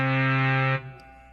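Moog synthesizer oscillators combined into one sustained, buzzy, harmonically rich tone, loud and steady, then cutting off abruptly near the end and leaving a short fading tail.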